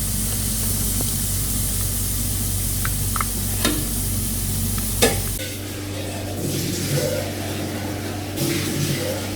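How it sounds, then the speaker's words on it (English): Onions sizzle steadily in medium hot oil for a chicken korma, a dense, bright hiss with occasional stirring clinks and a steady low hum behind, the frying noise dropping somewhat partway through. "drop them into a medium hot oil"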